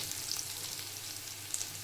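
Onions fry to a reddish brown in a pan, a soft, steady sizzle with faint crackles, quiet and close, with no talking.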